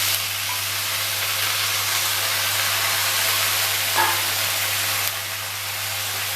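Chopped pumpkin greens dropped into a pan of fried onions, giving a steady loud sizzle and hiss over a low hum, with a brief stir clink near the end.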